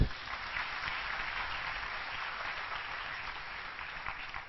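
Church congregation applauding after a sermon, a dense, even wash of clapping from many people that holds steady for several seconds, moderately distant and without speech.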